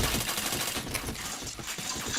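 Rapid gunfire in the Point Blank shooting game, a dense continuous volley of shots filling the whole moment, loud and busy without a break.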